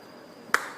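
A single sharp hand clap slapping at a mosquito, one crisp close smack standing alone in a quiet room with a short fading tail.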